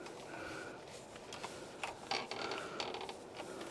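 A light stand's crank handle is turned to tilt a studio light during a newborn photo session, giving faint, close creaks and soft mechanical clicks in a short uneven series.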